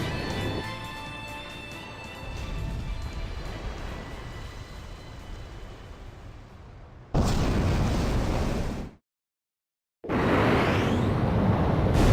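Loud rumbling explosions roll out as the enemy carrier Hrimfaxi sinks in the Rosgriz Straits in Ace Combat 5, sustained bursts with a sharp blast, a sudden dead silence, then another roaring eruption.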